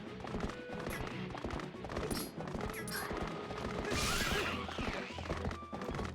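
Rapid clip-clopping horse hooves patter continuously amid busy game sound effects in The Legend of Zelda: Twilight Princess, with a brief crash and whinny-like noise partway through.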